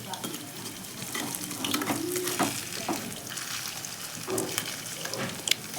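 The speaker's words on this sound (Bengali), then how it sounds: "সেজন্য আমি গ্যাসটা কমিয়ে দিয়ে হালকা আঁচে ভেজে নিচ্ছি।" Malabar spinach fritters fry in oil over a low flame, a soft steady sizzle with occasional stirring scrapes and light clinks of a utensil against the pan.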